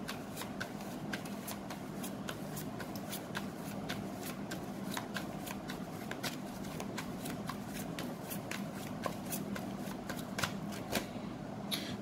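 Tarot cards shuffled by hand, a steady run of crisp riffling flicks and soft card slaps repeating close up for the whole stretch with no talk.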